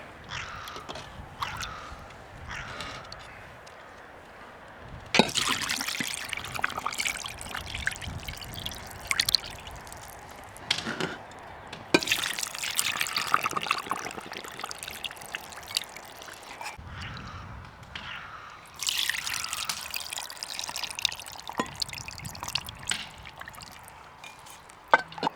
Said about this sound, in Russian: Заливаем прям до краев, чтобы килька полностью у нас была утоплена в тузлуке, в рассоле.